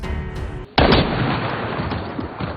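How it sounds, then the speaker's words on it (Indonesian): A single sharp gunshot in a film scene, loud and close, followed by a ringing, noisy tail that fades slowly. "Hinako pun malah menembak si Usubo"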